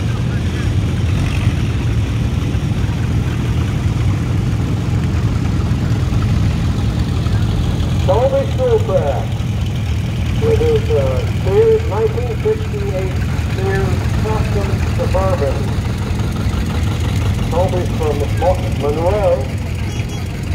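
Vintage John Deere 70 Diesel tractor idling during a farm club tractor parade, a steady low rumble running throughout, with an announcer speaking over it partway through.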